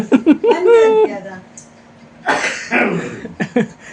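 A few short coughs come from an older man at a lively reunion party of longtime friends, with chatter and laughter around them.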